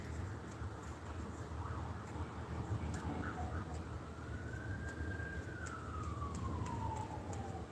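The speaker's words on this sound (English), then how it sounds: "And it's sirens in the background too." A siren wails in the distance behind indoor background noise, one clear rising and falling sweep in the second half of the clip, faint and far off.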